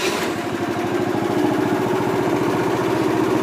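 A Harbor Freight 65162 trencher's small engine catches and settles into a steady, loud chugging idle, its rapid firing pulses running continuously with no talk.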